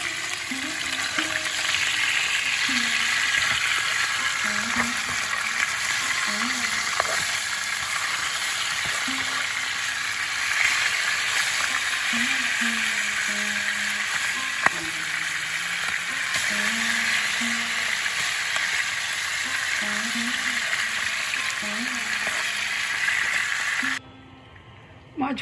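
Fish sizzles steadily in hot oil in a pan while a yoghurt fish curry is cooked, a loud, even frying hiss lasting about twenty-four seconds before it cuts out briefly, with a low voice talking under it.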